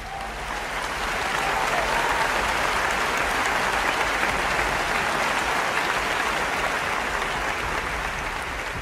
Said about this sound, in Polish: Wielkie brawa dla ciebie.